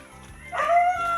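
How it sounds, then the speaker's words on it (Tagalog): A short, rising yowl from fighting cats cuts in close and loud over a low background hum, lasting under a second. "May nag-aaway na pusa."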